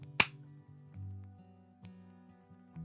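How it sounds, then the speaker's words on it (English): A single sharp hand clap swatting at a mosquito lands close to a microphone in a quiet room, followed by faint low hum and small rustles. "I'm sorry for clapping randomly into the microphone"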